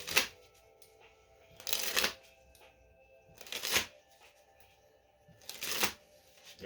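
Playing cards riffle and dribble in an anaconda dribble cardistry move, in three distinct crisp fluttering bursts about two seconds apart, close and clear against near silence.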